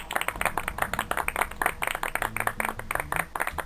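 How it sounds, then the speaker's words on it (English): A canned applause effect played during a Portal stream, a dense burst of many hands clapping quickly at a steady clip, fairly loud and unbroken, without talk. "Applause."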